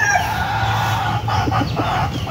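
Gamefowl chickens in a coop cluck steadily, with a rooster's crow rising partway through. The birds sound close and fairly loud against a constant low farmyard hum, and nobody speaks.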